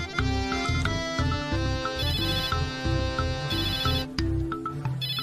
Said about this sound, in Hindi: उन्हीं ज़ेबुनिसा का फोन आ रहा है।